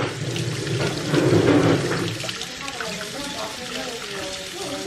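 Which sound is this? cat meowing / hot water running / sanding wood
hot water running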